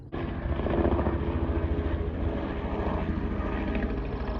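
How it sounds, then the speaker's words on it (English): A tour helicopter passes overhead with a loud, steady rotor thump and engine roar that holds throughout, close and dominant. "they do helicopter tours that go like directly over it"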